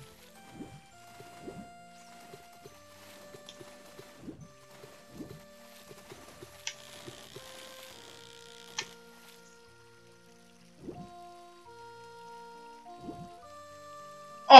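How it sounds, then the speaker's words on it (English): Water splashes in The Legend of Zelda: Ocarina of Time while fishing, repeated short soft splashes spaced every second or so under sparse game music notes, with no talking. "There was something splashing that entire time."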